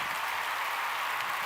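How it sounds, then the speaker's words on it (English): Applause sound effect triggered by a podcast host, a steady wash of clapping that is fairly faint and continuous for a moment, with no talk over it. "Applause."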